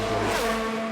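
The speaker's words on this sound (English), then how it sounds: "It actually sounds like a real car, a real F1 car" F1 car engine in F1 Manager 2022, a single car revving hard as it pushes on a hot lap, with a high, strained engine whine whose pitch shifts through a short loud pass.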